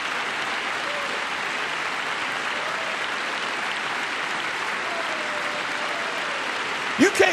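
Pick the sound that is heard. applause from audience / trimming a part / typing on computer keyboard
applause from audience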